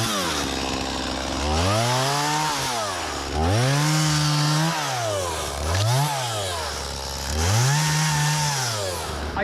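Chainsaw cutting through a tree, the engine revving up into long high-pitched whining cuts and dropping back to idle between them, loud and close, repeating about three times.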